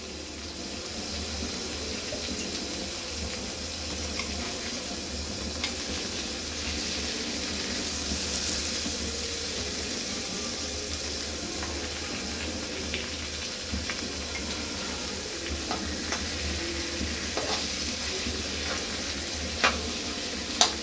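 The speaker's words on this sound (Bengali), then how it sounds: "সরিয়ে এবার মাংসটাকে একটু উল্টে দেবো" Oil-brushed tandoori chicken pieces sizzling in a pan, a soft, steady frying hiss that runs on evenly with a few light clicks near the end as the meat is turned.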